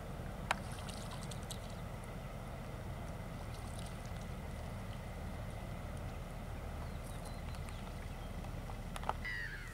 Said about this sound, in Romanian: Se aude o barjă care trece.